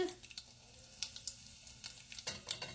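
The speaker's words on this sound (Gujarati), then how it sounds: "આપણે રાઈ, જીરું, અજમો તતરી જાય એટલે આપણે સૂકું લાલ મરચું નાખી દઈશું, હિંગ" Mustard, cumin and carom seeds sizzle and crackle in hot oil, a close, faint, steady fry broken by irregular popping and spattering bursts.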